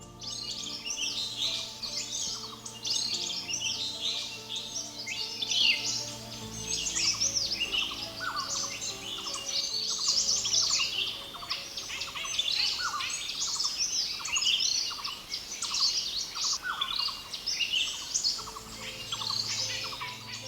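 Dense, overlapping birdsong from many birds in Satchari forest, Sylhet, Bangladesh, in early morning: bright chirps and trills pour out without pause for the whole stretch, with a faint insect hum beneath.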